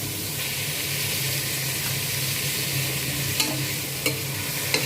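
Tomatoes being stirred and mashed with onions, mint and coriander in a hot pan make a steady close sizzle and frying hiss, with a few sharp scraping knocks of a utensil near the end.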